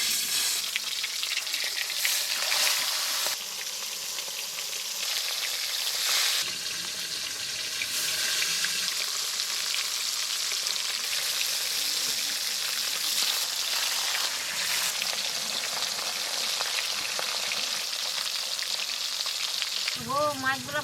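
Roop Chand fish fry in hot mustard oil with a loud, steady sizzle that runs throughout, broken by occasional clatter and a few brief faint sounds.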